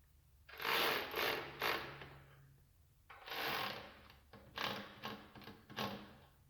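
Lock nuts being tightened onto bolts with a ratcheting tool, bursts of clicking ratchet strokes in several short runs separated by pauses, close and fairly quiet.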